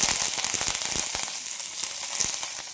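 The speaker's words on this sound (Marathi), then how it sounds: "आता आपण हिरवी मिरची टाकू, कढीपत्ता" Green chillies and curry leaves are frying for kanda poha, crackling and spitting loudly in hot oil as a continuous close sizzle with sharp pops.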